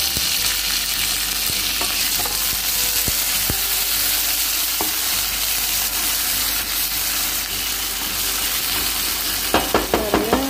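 Steady loud sizzling of food frying in a pan, with occasional stirring and a few clinks of a utensil near the end.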